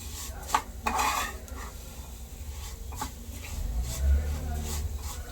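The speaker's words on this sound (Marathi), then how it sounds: "शेवया चांगलं तुपामध्ये तळून घेते" Vermicelli fried and stirred in ghee in a home kitchen pan, giving a soft steady sizzle with scraping spatula strokes and occasional clinks of utensils against the pan.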